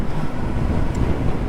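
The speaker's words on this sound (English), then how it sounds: "to feel that cold breeze coming through my jeans and trainers" Cold breeze buffeting the microphone outdoors beside a road bike, a loud, steady low rumble of wind noise over a short stretch with no talking.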